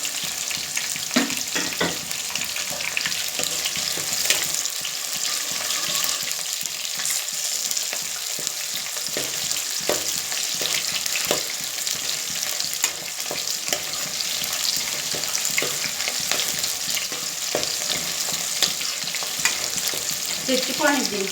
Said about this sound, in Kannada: ಎಲ್ಲ ಫ್ರೈ ಆಗಬೇಕು.